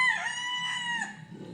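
An imported fighting cock, hatched from eggs brought from the US, gives one strong, close crow, a sustained harmonic call that fades toward the end, heard alone with no talking.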